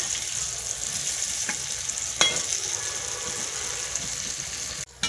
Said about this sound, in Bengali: একটু লাল লাল করে ভেজে নেবো পিঠাগুলো